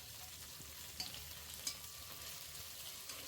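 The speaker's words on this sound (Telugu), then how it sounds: "ఈ స్లైసులు తీసుకొని వేడి అయిన నూనెలో వేసేసి కొంచెం వేగిన తర్వాత బిర్యానీ మసాలాలు, కొంచెం కసూరి మేతి, పుదీనా వేసేసి ఆనియన్ మసాలాలు బాగా ఎర్రగా వేయించుకోవాలి" Sliced onions frying in hot oil with biryani masala, kasuri methi and mint for chicken dum biryani, a faint continuous sizzle with a couple of quiet utensil taps.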